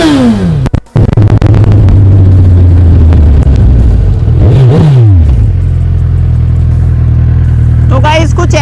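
A Suzuki Hayabusa motorcycle with its silencers removed revs hard, an extremely loud and close unmuffled engine that rises and falls in pitch through several throttle blips, ending in a quieter idle with a bit of clatter.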